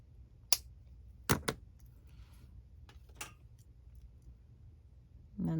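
Scissors cutting craft material for journal jewelry: a few sharp, quiet snips spaced out across a near-silent background, close by, with a soft rustle at the very end.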